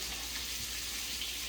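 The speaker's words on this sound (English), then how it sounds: "So I'm going to let that sizzle a little bit longer." Chicken sizzles steadily in a skillet on the stovetop, a constant soft hiss of frying that holds at an even level throughout with no pauses or talk.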